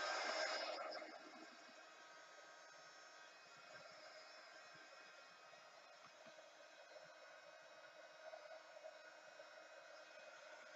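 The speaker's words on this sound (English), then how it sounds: "I'm just going to quickly give that a blast with a heat gun" Heat gun blowing on a mixed media sign, a steady airy whoosh that is loudest at the start and then settles to a constant hiss for the rest.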